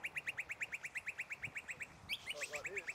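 A bird chirps outdoors in a fast, evenly spaced series of sharp, high tweets, then a brief jumble of other calls, fairly faint against light background noise.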